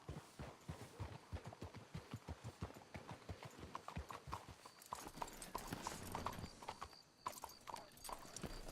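Rapid, rhythmic hooves clip-clopping close up in the video game Red Dead Redemption 2, a horse trotting steadily before slowing, with a brief whinny-like sound near the end.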